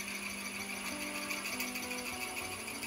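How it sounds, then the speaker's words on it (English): A power drill whines steadily, with a high tonal hum and gritty grinding as it bores slowly through an olive wood pen blank, continuous and fairly close. "all I'm going to do is just drill through nice and slow"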